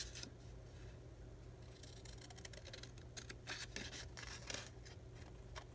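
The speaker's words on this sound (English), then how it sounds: "This time I'm just going to use my scissors" Scissors snipping through paper scraps for a collaged craft embellishment, a run of faint, irregular crisp cuts and rustles over a steady low hum, growing busier toward the end with no talk.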